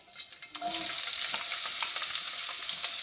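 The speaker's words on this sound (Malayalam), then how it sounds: "ഇനി നമുക്ക് ഇതിലോട്ട് സവാള ചേർത്ത് കൊടുക്കാം." Sliced onions dropped into well-heated oil for chicken Manchurian, a sudden bright hiss that settles into a loud, steady sizzle up close.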